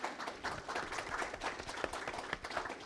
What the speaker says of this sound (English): Can we give a round of applause for the organizers of CXC